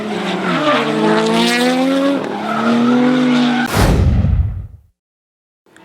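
A Mazda RX-7 and a Nissan 180SX drifting at a D1NZ championship round in Taupo, a loud sustained tire squeal with wavering engine tone, then a rushing whoosh that fades to silence before the noise returns.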